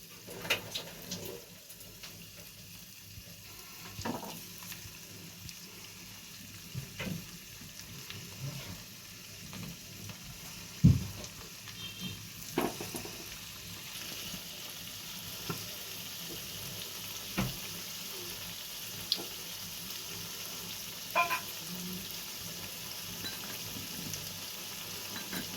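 Cauliflower pakoras fry quietly in oil that is only mildly hot, a soft steady sizzle broken by occasional light clinks and taps from turning them, with no talking.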